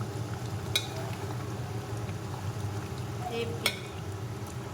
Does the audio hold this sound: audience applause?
no